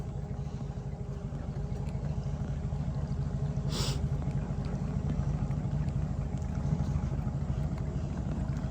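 The stern-drive engine of a 1951 18-foot Penn Yan President motorboat drones steadily at a moderate distance on Lake Champlain, a low continuous rumble with a short sharp hiss midway.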